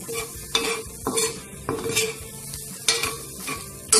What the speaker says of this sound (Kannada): ಈ ರೀತಿ ಹಾಕೋ ತನಕ ಚೆನ್ನಾಗಿ ಮೊಟ್ಟೆಯನ್ನು ಹುರಿಬೇಕು